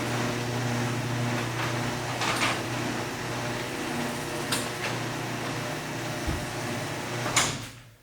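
A residential garage door motor runs steadily with a low mechanical hum, and a few clunks and rattles sound over its drone; no one speaks.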